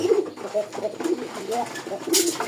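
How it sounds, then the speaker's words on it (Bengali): Bombay pigeons cooing close by in soft, repeated low throaty calls, with faint background noise. "এই জায়গায় একজোড়া বোম্বাই কবুতর আছে। আমি ডাকটা দেখানোর চেষ্টা করতেছি।"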